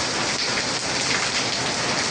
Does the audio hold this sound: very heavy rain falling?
yes